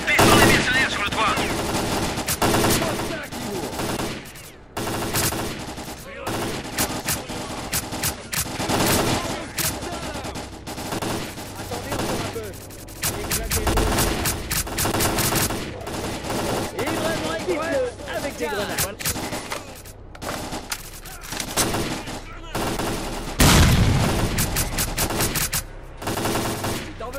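Rapid bursts of automatic gunfire and single shots rattle almost continuously during a firefight against mercenaries on a rooftop in the video game S.T.A.L.K.E.R. Clear Sky, loud and close with brief gaps.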